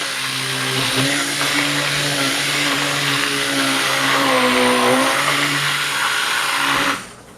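A stick blender mixing goat milk soap whirs steadily and loudly for several seconds, its pitch wavering slightly, then cuts off abruptly near the end.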